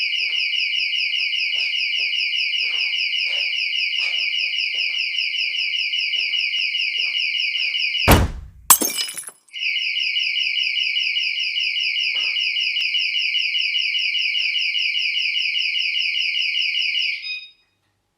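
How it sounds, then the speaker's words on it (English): A house alarm from a TV show blares continuously in a loud, steady two-tone electronic pulse, cut by a brief burst of noise midway before resuming and ending abruptly. "as he's doing the dishes, an alarm goes off"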